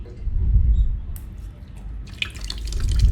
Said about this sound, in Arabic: المفروض ان احنا لو فتحنا البالونه من النقطه دي الميه اللي هتطلع هتبقى ميه شبه ثابته